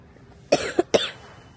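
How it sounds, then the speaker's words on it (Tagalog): A woman coughs twice in quick succession while shopping in a Walmart store, short close bursts with a brief throat sound between them, no talking. "nag-ubo-ubo ako dito"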